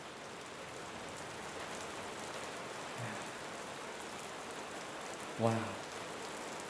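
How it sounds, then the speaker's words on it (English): Steady rain sound effect plays as a continuous broadband hiss of drops on a surface, with a brief voice exclaiming near the end. "Let's get a little bit more of that rain sound effects."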